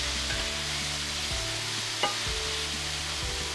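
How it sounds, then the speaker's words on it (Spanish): Onion and pepper sautéing in a pan as the base for a seafood fideuà with cuttlefish and prawns, a steady close sizzle with occasional stirring scrapes and one brief clink, no voices. "Seguimos rehogando."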